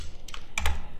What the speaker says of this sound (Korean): 윈도우 키 그리고 키보드 R을 눌러서 여기서 cmd라고 입력하시면 되고요.